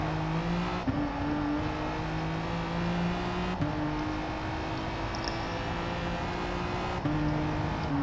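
Race cars in a racing video game drive steadily, their engine drone holding constant with gear-change shifts and brief surges, a continuous loud hum throughout.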